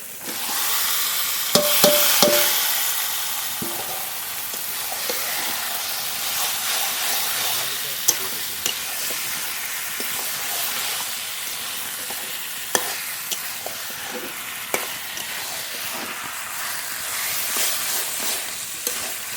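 Spice-marinated duck meat sizzles and fries steadily in a pan, with stirring scrapes and occasional sharp clicks of a utensil over a continuous hiss.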